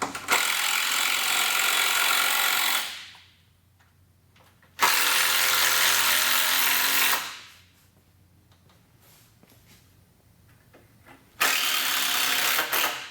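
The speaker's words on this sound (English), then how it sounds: "I'm going to go ahead and just bury these 4 screws." A power drill drives screws into a wood frame while a door hinge is fitted, in three loud, sustained whirring bursts separated by quiet pauses.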